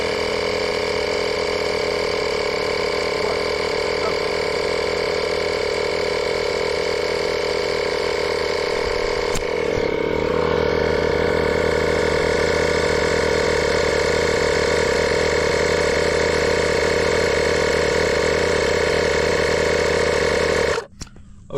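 A 12V tire inflator plugged into a 2022 GMC Sierra drones with a steady, loud mechanical buzz and rattle while pumping air into a tire, running continuously before switching off near the end.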